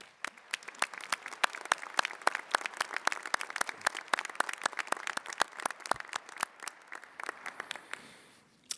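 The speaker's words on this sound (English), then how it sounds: "So please join me one more time in a round of applause for our graduates" Audience applause for graduates at a college convocation ceremony, a steady, dense clapping from a large crowd in a hall that thins out toward the end.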